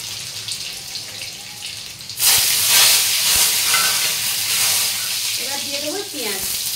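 Dried red chillies hit hot oil in a Bengali masoor dal preparation with garlic and onion: a quiet kitchen bursts into a loud, dense sizzle that keeps crackling steadily, with faint stirring near the end.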